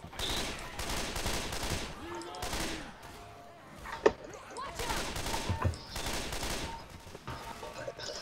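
Rapid gunfire in the video game Left 4 Dead 2 crackles in repeated bursts, with one sharp louder shot, while players talk over the action.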